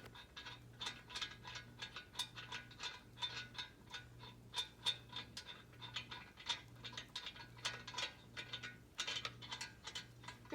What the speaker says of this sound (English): you can use your fingers and begin to loosen them off